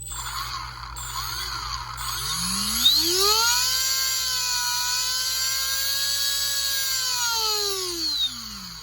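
An RC brushless motor driven through an ESC by a servo tester spins up, its whine rising sharply in pitch, holding a high steady tone for several seconds, then winding back down near the end.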